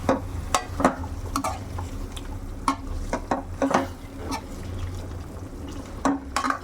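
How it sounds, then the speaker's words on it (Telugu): Stuffed brinjals fry with leftover spice paste in a curry pan, with a low sizzle under repeated close scrapes and clacks of a spoon stirring against the pot. "ఇప్పుడు ఈ మిగిలిన పేస్ట్ ఉంది కదా, ఇది వేసుకొని ఒక 2 మినిట్స్ ఫ్రై చేసుకుందాం."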